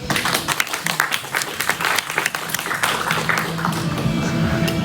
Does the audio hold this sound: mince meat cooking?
no